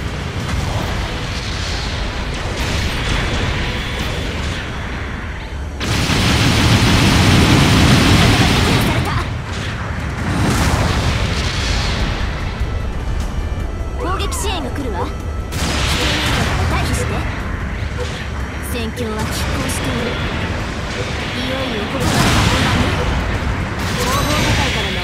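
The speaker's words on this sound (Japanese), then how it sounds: "支援砲撃外れたみたいね。" Support artillery bombardment in Gundam Battle Operation 2, with heavy booming explosions and rumbling blasts rolling in several loud bursts amid mechanical battle noise, while a voice speaks over parts of it.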